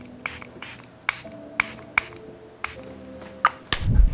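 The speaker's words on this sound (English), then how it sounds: "To complete the look, I'm going to use a setting spray from Charlotte Tilbury." Charlotte Tilbury setting spray misted in several short, sharp pumps spaced irregularly over a few seconds, close and crisp against a quiet room, with a low thump at the end.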